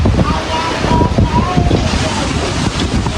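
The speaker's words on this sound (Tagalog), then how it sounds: "Bagyo-bagyo po ang hangin." Strong stormy wind roars past an outdoor hut, steady heavy buffeting on the microphone with a brief voice underneath, loud and unbroken.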